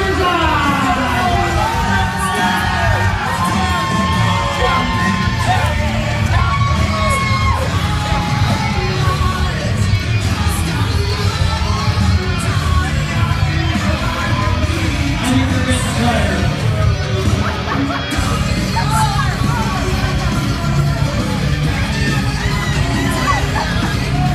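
A crowd at a mud wrestling match in Las Vegas yells, whoops and cheers continuously and loudly throughout, with shouted voices close by and a dense roar of the audience behind.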